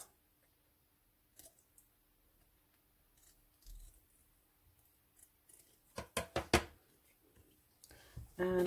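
Scissors trimming the edge of a brightly coloured ATC coin, quiet at first, then a quick cluster of close, crisp snips near the end with a few handling clicks.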